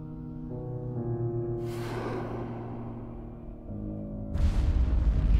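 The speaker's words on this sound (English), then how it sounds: "What was that explosion?" Explosion in the video game Assassin's Creed Syndicate: a tonal hum is broken by a sudden noisy burst, then a second, louder blast with a deep, booming rumble near the end, with no talking.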